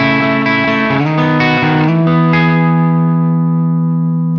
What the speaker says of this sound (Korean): EQ에서 저음역대를 좀 부스트를 해서 따뜻한 소리를 만들어 보겠습니다